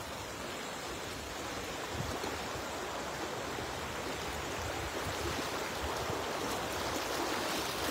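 A strong river current rushes in a continuous broadband wash of water, steady and fairly faint with no voices, sounding like fast-flowing water heard at night.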